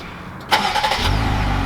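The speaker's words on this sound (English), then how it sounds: "we'll do the remote start so you guys can hear the exhaust quickly." A lifted 2020 Jeep Gladiator Rubicon pickup is remote-started; its engine cranks and fires up, then settles into a low, steady idle with a deep exhaust rumble.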